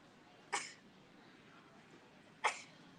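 At a county fair junior and open beef show, two short sharp sneezes or coughs burst out about two seconds apart over a quiet background murmur.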